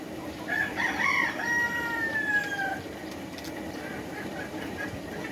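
A loud, drawn-out crow from a desi fowl on a laying-hen farm, with a few clucks before it, then quieter barnyard background for the last couple of seconds.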